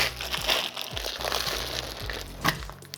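Cryovac plastic packaging being peeled off a raw brisket, a close crinkling and crackling of plastic with a few sharper tugs and pops.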